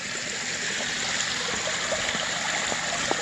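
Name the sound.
water trickling over rocks in a garden waterfall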